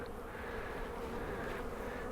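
Honey bees hum in an opened spring hive box, a dense steady buzzing drone that stays even and fairly faint throughout, with no speech.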